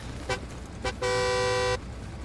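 A car horn honks in the WWII shooter Hell Let Loose: two quick short toots, then one steady blast lasting under a second. It is fairly loud and stands alone over a low background rumble.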